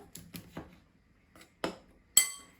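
A spoon stirs baking powder into flour in a bowl, giving a handful of quiet, scattered clinks and taps against the bowl's side with short pauses between them.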